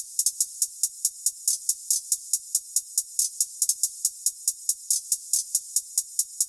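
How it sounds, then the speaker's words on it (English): A bright, dry hi-hat pattern from a trap-style beat ticks steadily alone, with quick stuttering rolls breaking up the regular pulse and light reverb tails on the hits. "A very simple hi-hat with a few rolls."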